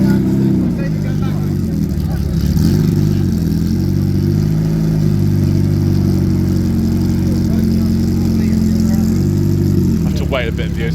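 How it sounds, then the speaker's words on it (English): A TVR sports car idles and burbles at a classic car night in Ampfield, its exhaust a steady deep rumble with small throttle blips, close by, with some people talking nearby. "We'll have some TVR exhaust noise."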